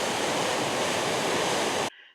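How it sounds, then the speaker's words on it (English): Roaring water in a canyon at Campbell River on Vancouver Island, a loud, dense, continuous rush that stops abruptly, leaving near silence. "And enjoy the roar of the water."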